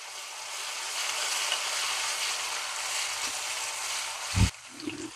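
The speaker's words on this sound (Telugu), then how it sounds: "ఈ అల్లం వెల్లుల్లి వేగేలోపు ఉల్లిపాయ కూడా వేగిపోతుందండి" Onions and ginger garlic paste fry in a pan for a bitter gourd curry, making a continuous close sizzle with light stirring, broken near the end by a thump and a short clatter.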